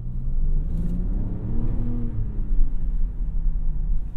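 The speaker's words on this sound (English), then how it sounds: "we'll give it a little tiny bit of gas here" A 2021 Range Rover Sport HST engine rises in a smooth, steady low rumble under gentle throttle, heard from inside the cabin with a rising hum and no voices.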